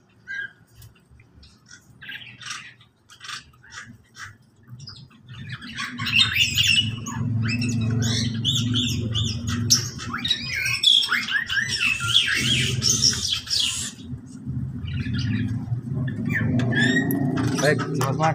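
Bali mynas in a cage squawk and chirp repeatedly, loud and close, the calls growing busier partway through over a background murmur and talk.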